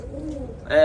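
A Mayaz pigeon gives a short, close coo, a low throaty call followed by a brighter rising note at the end, heard alone.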